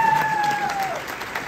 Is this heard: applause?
yes